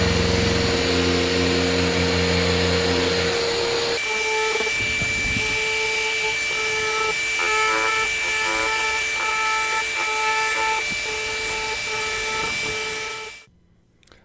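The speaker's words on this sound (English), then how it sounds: "I'm really just letting the sander do the work and the sandpaper do the work" Delta 6-inch sander running steadily against a wooden door, a constant whining motor hum with grinding friction, shifting in tone partway through and then cutting off near the end.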